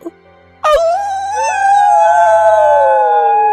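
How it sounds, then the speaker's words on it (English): In a video game, a long tonal howl rises and holds steady, joined by two wild dogs howling along in layered, sustained cries, loud and near after a brief quiet start. "I hear her howl echoed by two wild dogs."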